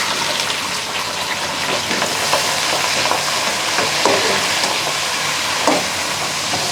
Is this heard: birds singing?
no